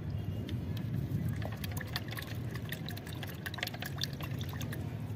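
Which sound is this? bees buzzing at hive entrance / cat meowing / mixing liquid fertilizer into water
mixing liquid fertilizer into water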